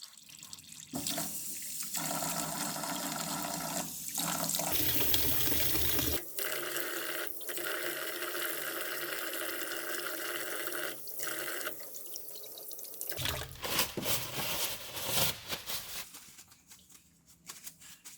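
Tap water runs steadily into a sink as hands are scrubbed clean of a sticky residue, with splashing that shifts and breaks off as the hands move in and out of the stream.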